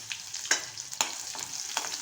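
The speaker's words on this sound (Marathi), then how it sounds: "छान अशी फोडणी आपण परतून घ्यायची आहे" A tempering of cumin, chilli, curry leaves and asafoetida crackles in hot oil, a soft sizzle punctuated by several sharp pops and stirring scrapes, fairly quiet and close.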